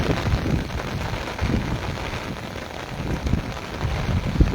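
Heavy rain pours down in Taunsa Sharif, a steady, dense hiss with a low rumble like wind beneath it and no voices.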